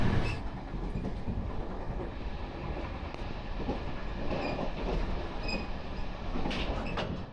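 An old, rusty 50-year-old Taiwanese express train rolls along the rails with a dense, steady rumble and faint clacking heard from inside a carriage, loud and unbroken throughout.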